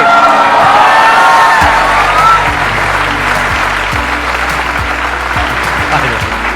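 A large audience applauds and cheers to welcome the founder of Chai Sutta Bar onto a stage, loud sustained clapping with whoops, and a steady musical tone joining partway through.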